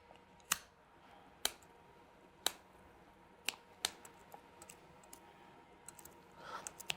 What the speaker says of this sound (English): here's a pair of scissors for you. And what we can do is just to cut off the strings